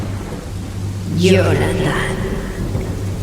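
Thunderstorm with steady rain for an audiobook horror scene, a rolling thunder rumble swelling midway over continuous rainfall, with a voice speaking briefly over it.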